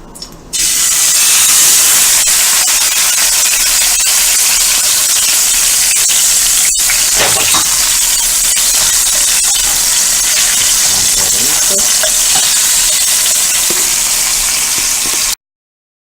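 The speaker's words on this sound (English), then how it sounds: "so let's place the pork chops in. You should get a nice sizzle when you put it in." Pork chops sizzling in hot canola oil in a frying pan, cooked garlic-herb style, give off a loud, steady, close hiss that runs unbroken for about fifteen seconds with no talking.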